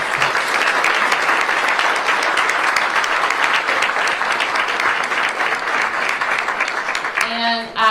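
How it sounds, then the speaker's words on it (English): A crowd at a city budget announcement by the DC mayor breaks into sustained applause, loud and dense clapping from many hands that carries on steadily before tapering off near the end, where a voice begins speaking. "So let's give them an early round of applause"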